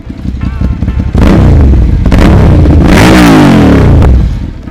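A big motorcycle engine, a newly bought large bike at RNJ Motosport, revs hard outdoors, climbing from idle into loud sustained blips and surges before easing back down, very close and dominant.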